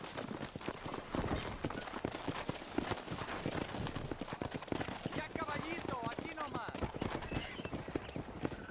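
Horse hooves clip-clop steadily in the Red Dead Redemption video game, a continuous clear rhythm of hoofbeats on the ground, with voices talking over them and a horse whinnying.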